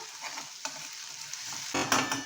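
Bottle gourd (dudhi) with chopped onions stirred in a pan, a continuous gentle sizzle broken by scraping spoon strokes, the last one louder and closer.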